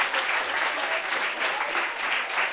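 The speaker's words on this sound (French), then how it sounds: "On peut applaudir pour les pains, s'il vous plaît." Audience applause at a French stage show, a dense, steady wash of clapping that fills the whole stretch at moderate volume.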